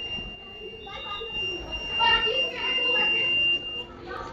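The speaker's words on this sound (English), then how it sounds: "Here the fan has turned on and a buzzer has gone on." The buzzer of a smart IoT air quality monitor sounds after its temperature rises, a thin, steady tone holding throughout beneath a person talking.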